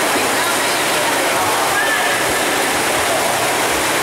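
A swimmer splashes and churns water during the swim leg of a 2015 triathlon, heard as a loud, dense, continuous rush of water close by.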